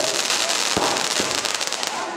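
Firecrackers go off at an outdoor village drama performance in Sivaganga, a rapid crackling burst with a couple of louder bangs, close and loud, while a crowd murmurs underneath.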